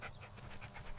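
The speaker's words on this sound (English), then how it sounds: "Dog. This is a dog." Quick, rhythmic dog panting, fairly faint and breathy, repeating in short bursts over soft background noise with no talking.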